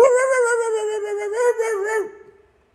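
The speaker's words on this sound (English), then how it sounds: "What are you barking at, hon?" A dog gives a drawn-out, howling, whining bark that wavers in pitch before trailing off, close and fairly loud, alone without talk.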